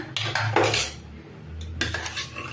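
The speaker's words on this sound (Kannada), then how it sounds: "ಕುಕ್ಕರ್ ಮುಚ್ಚಳ ಓಪನ್ ಮಾಡ್ತಾ ಇದ್ದೀನಿ" A pressure cooker of chicken gravy is opened after two whistles, with clanking metallic knocks and scrapes of the lid and vessel in short bursts, close and fairly loud, separated by brief quiet gaps.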